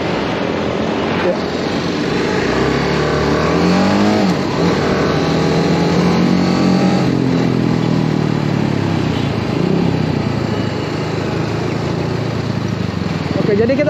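TVS Apache RR 310 motorcycle pulling away from first gear, its engine droning steadily with rising and falling revs under continuous wind noise, while people talk over it.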